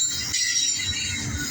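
A CSX intermodal freight train passing: a continuous rumble of rolling cars with a high metallic wheel whine over it, steady and fairly loud.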